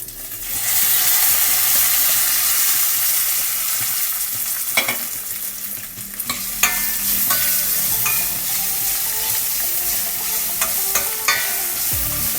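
Peanuts and crushed ginger roasting in a hot pan for lemon rice: a steady broadband frying hiss with intermittent scraping stirs and small crackles, close and continuous with no talking.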